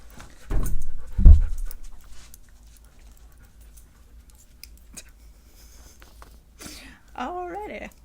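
A pet dog pants and whines close by in a couple of short bursts near the start, then goes quiet while faint background sounds continue and a voice speaks briefly at the end.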